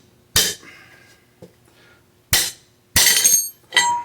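Sharp metallic taps drive a crown race off a bicycle fork, with a few separate impacts spaced irregularly over several seconds, each followed by a brief ringing clink.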